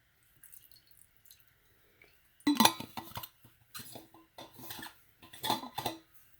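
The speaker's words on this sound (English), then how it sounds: "put some water in your dish." Hot water poured into a dish, with short splashing bursts and bright clinks of the dish, in two main spells separated by quieter drips and small knocks.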